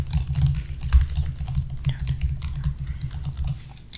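Fast, steady clatter of typing on a computer keyboard, close and continuous with dense overlapping keystrokes.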